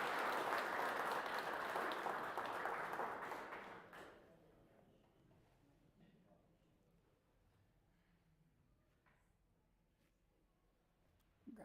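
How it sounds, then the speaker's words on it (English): Applause from an awards ceremony audience at a West Michigan Conference fall sports banquet, loud and dense for about four seconds before fading abruptly to quiet room noise, with a brief sharp sound at the very end. "So if you could please give Maddie a round of applause here."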